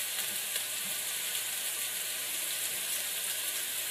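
Zucchini noodles sizzle steadily in a hot pan, a constant hissing, crackling fry of even loudness with faint pops scattered through it and no voices.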